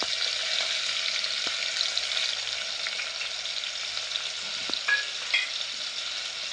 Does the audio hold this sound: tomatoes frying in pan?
yes